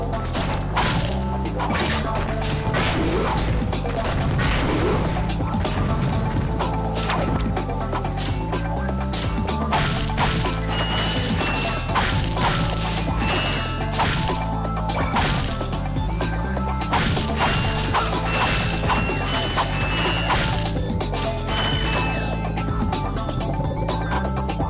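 Objects blowing up in the Ratchet & Clank video game, a dense barrage of cracks, thwacks and metallic clinks over continuous game music, loud and unbroken throughout.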